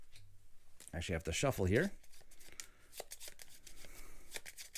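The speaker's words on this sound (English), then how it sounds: "So I actually have to shuffle." A deck of cards for the Apiary board game gets shuffled in a run of quick, close riffling clicks, after a brief spoken word at the start.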